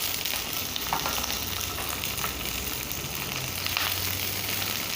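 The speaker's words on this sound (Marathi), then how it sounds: "याला आपण तेलात कमीत कमी 4-5 मिनिटं तळून घेऊया व्यवस्थित" Broccoli frying in a little oil in a hot kadhai, a steady close sizzle that runs unbroken throughout, with faint occasional scrapes of stirring.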